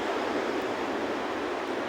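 Steady broadband rushing of wind fills the clip, constant and fairly loud with no pauses or voices.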